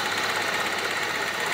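Hyundai Atos engine idling with an ignition misfire traced to a faulty catalytic converter, a close, steady rough hum with an uneven knocking pulse running through it.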